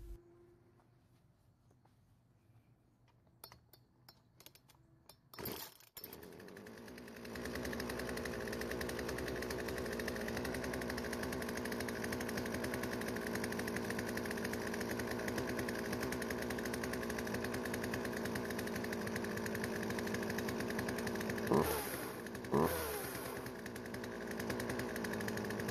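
A Poulan chainsaw with a repaired carburetor and primer bulb, a few sharp pull-start attempts and sputters before the engine catches and runs at a steady buzzing idle, with brief revs near the end.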